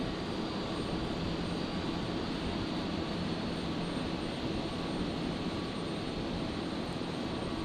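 Aircraft roaring in to land at Brisbane Airport, a steady broad engine rumble and hiss holding constant loudness for several seconds, distant but full and unbroken, with no voices.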